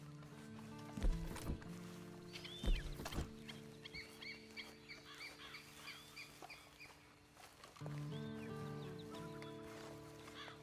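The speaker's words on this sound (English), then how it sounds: "And you better get on this horse." Horse hooves clip-clop in a Red Dead Redemption 2 game scene, with chickens clucking nearby over soft background music.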